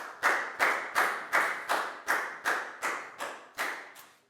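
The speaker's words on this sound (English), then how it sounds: "Big round of applause for Pat" A Year 4 science class claps in unison: about ten sharp, evenly spaced claps, close and crisp, with a short ring after each and no talking.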